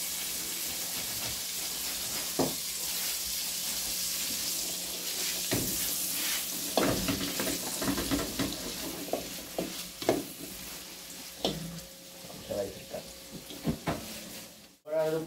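Sliced calabresa sausage fries in butter, a soft sizzle running under repeated scraping and clattering as a spoon stirs the pan, with a few louder knocks toward the end.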